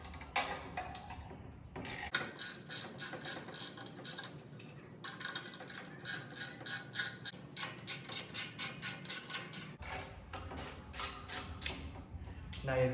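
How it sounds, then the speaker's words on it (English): Ratcheting clicks and creaks come from a wrench loosening two 10mm bolts on the governor cover plate of a Briggs and Stratton Vanguard 250 small engine, in close, repeated bursts with brief pauses between runs. "All you'll need to do is take off 2 of these"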